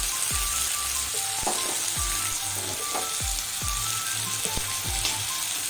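Spices added to frying cabbage curry sizzle and crackle steadily in hot oil, close and continuous, with occasional stirring clinks and scrapes and no talk.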